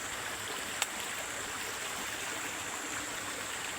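A small waterfall in Lanao del Norte gives a steady, even rush of falling water that holds constant throughout, with a single faint click near the start.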